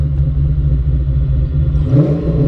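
A 1991 Ford Mustang engine revs, a loud, close, low rumble that builds and rises in pitch near the end as the car accelerates.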